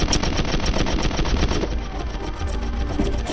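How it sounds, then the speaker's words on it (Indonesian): Rapid, relentless Gatling gun fire in a film rattles continuously at full volume, a dense stream of shots from the rotating gun. "Omura memerintahkan pasukannya untuk menembaki mereka dengan senjata beruntun Gatling."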